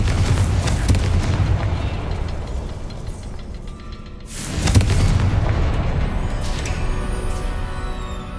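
Fiery spell explosion in the Hogwarts Legacy video game, a deep rumbling boom that fades and then a second blast bursts out, followed by sustained roaring rumble.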